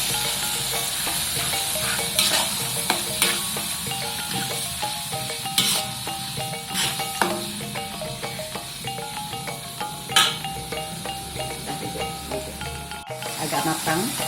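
Coarse-ground chili and petai frying in a pan for sambalado, with a close, steady sizzle and hiss and repeated scraping stirs of a spoon against the pan, fairly loud throughout.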